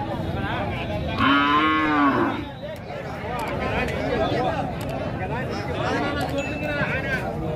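Cows at the Matrapalli cattle market moo loudly nearby, a long drawn-out call and then a second, over constant crowd chatter and people talking.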